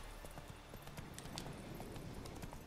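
A horse gallops at full sprint in The Witcher 3, its hooves making a quick, regular clip-clop rhythm that stays faint and distant over game ambience.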